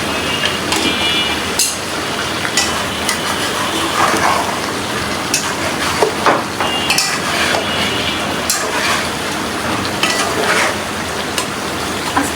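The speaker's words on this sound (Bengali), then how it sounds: "এখন মশলাগুলো সব কষাবো" Spices being stir-fried in a small wok with salt and beef masala: a steady, dense sizzle and crackle with frequent scraping and clinking of a utensil against the pan, close and continuous.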